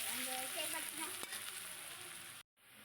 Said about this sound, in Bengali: পেঁয়াজটা একটু নেড়ে নিলাম ভালো করে